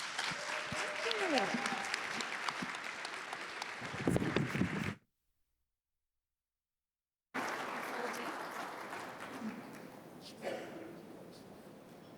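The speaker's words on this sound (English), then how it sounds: "please give these dynamic leaders a round of applause" Conference audience at an Indigenous prosperity forum applauds a panel of leaders: dense sustained clapping, a brief silent gap midway, then more applause fading slightly.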